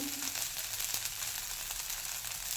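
Amboli batter pancake sizzling on a hot pan while being lightly roasted on its second side, a steady close crackling hiss that holds evenly throughout with no talking.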